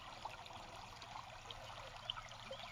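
A farm creek flows in a soft, steady trickle and babble. Small splashes and bright drips stand out now and then in the quiet outdoor scene, with no talking.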